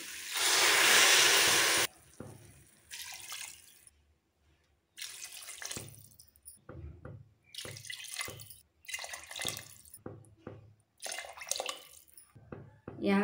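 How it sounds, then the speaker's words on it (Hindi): Water gushes loudly into a pot of rice and moong dal lentils for a couple of seconds, then stops, followed by quieter intermittent clinks and stirring noises. "अब इसमें हम डालेंगे पानी।"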